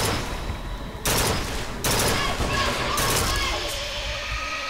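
Rapid bursts of gunfire from a weapon in BioShock Infinite crackle in dense volleys, cutting in sharply around each second mark over a steady backdrop of game noise and distant voices.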